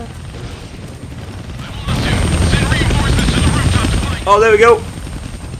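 A helicopter in the Deadpool video game drones loudly and steadily with gunfire and crash effects, while a player talks over it and a sharp burst cuts in near the end.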